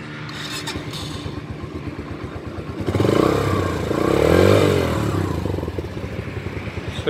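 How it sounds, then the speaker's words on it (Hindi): A Yamaha YB125Z motorcycle engine idles with a fast, steady thump close by, then rises into a louder blip of revs before settling back to idle. "तो ग्रंट आप सुन पाएंगे YB125Z का।"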